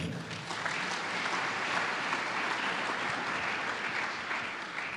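A church congregation applauds with a thick, continuous wash of clapping that stays loud and even from start to finish.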